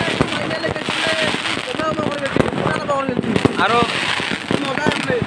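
Firecrackers burst at a Ravan Dahan festival before a large crowd, a rapid run of sharp cracks and pops going off continuously under loud, excited talking nearby.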